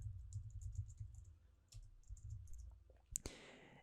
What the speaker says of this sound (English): notice how I'm just typing this and selecting it